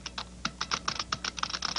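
Fingers type a word on a computer keyboard, a quick burst of about a dozen close, crisp key clicks in an uneven rhythm with no speech.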